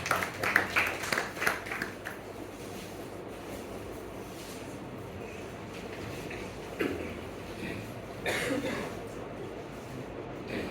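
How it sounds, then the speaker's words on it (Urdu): Audience at a speech event gives a short, scattered round of claps welcoming a speaker, quiet and somewhat distant, then fades into low room murmur with a few faint stirs later. "محمد سفیان، بھرپور تالیوں میں استقبال دیجیے"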